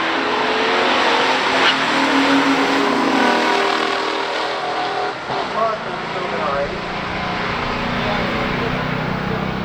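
A 1974 Pontiac Firebird Trans Am with a 400 and four-speed launches at a drag strip, its loud engine roar rising steadily across the clip, with a brief dip midway, under constant track noise.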